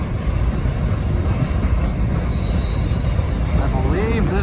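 A train backs up at Santa Fe Junction in Kansas City, a steady rumbling rail and wheel noise with faint squeals and tonal whines close by, sounding continuously throughout.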